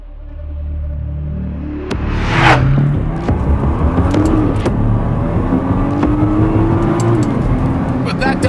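A 2009 Nissan GT-R engine revs hard while driving, climbing in pitch through the gears with a brief shift break, loud and close inside the car, with someone talking over it.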